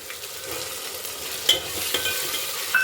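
Green peas sizzle in hot tempering oil with ginger garlic paste, a loud, steady frying hiss up close, broken by a few sharp scraping stirs.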